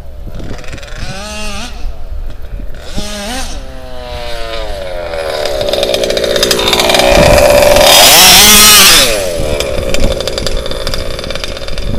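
HPI Baja RCMAX 90GT radio-controlled car's small petrol engine running without its muffler, a loud, raspy, chainsaw-like buzz revving up and down in waves, then holding a sustained high-pitched wail.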